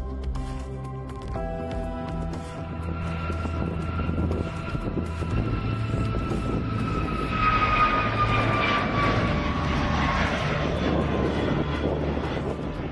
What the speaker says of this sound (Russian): Самолет МС-21 проверяет на уровень шума в условиях полета.